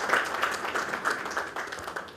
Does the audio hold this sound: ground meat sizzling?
no